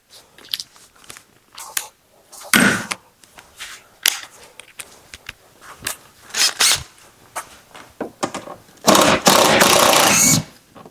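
An impact wrench fitted with a Torx bit hammers during an accessory installation. It fires in short rattling bursts and then one longer burst near the end, mixed with close clatter from handling parts and tools.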